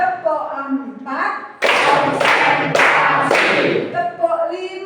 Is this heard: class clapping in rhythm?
yes